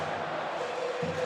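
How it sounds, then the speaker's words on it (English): An ice hockey crowd at Yost arena keeps up a dense, steady roar of cheering and clapping, heard close and continuous for a brief moment. "The children of Yost, they're clapping, they're cheering."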